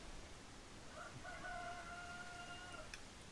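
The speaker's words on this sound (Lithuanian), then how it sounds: "Gaidys dar kakarekuoja," A rooster crows once at a moderate distance on a rural homestead where bees are kept, its drawn-out call rising above steady outdoor background noise, with no one talking.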